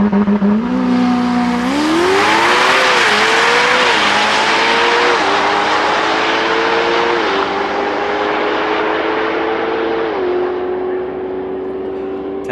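A Ferrari Pista supercar accelerates hard at a drag race, its loud engine howl rising through rapid gear changes as it roars past and fades slightly into the distance.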